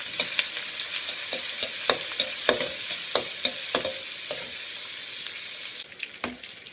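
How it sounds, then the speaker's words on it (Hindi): Potato koftas frying in hot oil, a constant bright sizzle close by with a string of light taps and clicks from a utensil turning them, the hiss easing slightly near the end. "ये नाज़रीन देखिए मेरे कोफ्ते अच्छे से फ्राई हो चुके हैं, ये बिल्कुल गोल्डन ब्राउन हो चुके हैं।"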